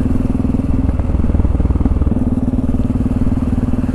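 A Yamaha XT660R single-cylinder motorcycle is ridden, its engine thumping in a loud, rapid, steady pulse close to the microphone, with a brief shift in tone midway, no talking.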